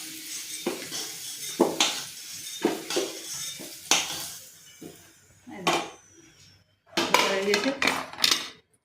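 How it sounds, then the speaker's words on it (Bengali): Fried potatoes are lifted out of a kadai (wok) with a metal utensil, giving a series of sharp scraping clatters and knocks at irregular intervals, with quiet pauses between them and a faint sizzle underneath. "আমি আলুগুলো কড়াই থেকে তুলে নিচ্ছি।"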